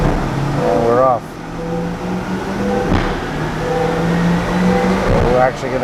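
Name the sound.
C8 Corvette engine running on a dyno in fourth gear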